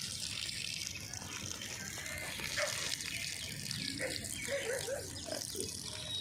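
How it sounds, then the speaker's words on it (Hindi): Water splashes and runs steadily onto vegetable plants such as bottle gourd in a home garden, a soft continuous hiss and trickle, with faint voices and background sounds mixed in. "शाकभाजी पानी नाखवानुं।"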